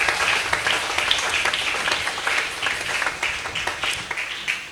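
A church congregation applauding at the close of a marriage conference, a sustained burst of many hands clapping at a steady level, with a few voices mixed into the crowd.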